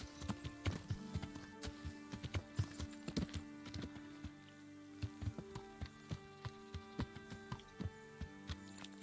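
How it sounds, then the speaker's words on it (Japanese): Horse hooves clip-clop in Kingdom Come: Deliverance, a medieval game, as a horse walks near a stable: soft, fairly regular hoof knocks, close and quiet, with a faint ambient bed and no talking. "ラジック教の馬や。 なんでここに止まっとん？"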